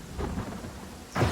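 Thunder rumbles through steady rain during a storm in the Pathfinder: Kingmaker video game, with a louder, closer crack and boom near the end of the short stretch, and no voices.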